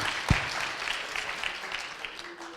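Hands clapping together in a church congregation, a broad steady wash of applause filling the room at moderate volume with no voices on top.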